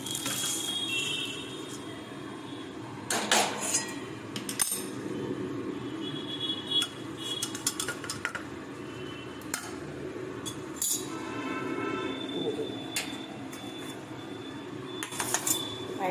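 Metal utensils clink against a pan or plate while freshly cooked chow mein is tipped out, several sharp scattered clinks and scrapes over a quiet kitchen background, no talking.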